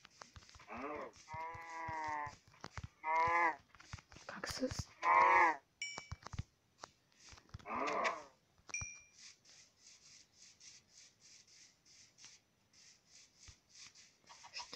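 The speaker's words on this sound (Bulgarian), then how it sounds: "Кравички." Several Minecraft cows moo in turn, loud and close, with a few short bleats and soft clicks between; quieter electronic tones follow in a lull.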